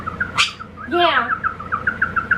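A pet bird chirps close by in a quick, regular series of bright short tweets, with one longer squawking call partway through.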